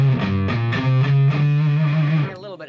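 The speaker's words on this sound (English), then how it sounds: "the Roccaforte also has a tendency to produce fuzz tones on the lower strings" A Roccaforte guitar amp breaks into a fuzzy, distorted tone as low strings are struck, several sustained buzzing notes ringing loud and close before cutting off near the end.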